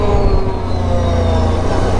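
A Can-Am Renegade 1000 ATV on Tusk Megabite tires rides on pavement, with a loud, steady engine drone and tire hum that stays constant and close throughout.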